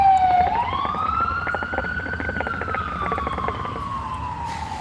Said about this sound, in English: Excuse me, ambulance break.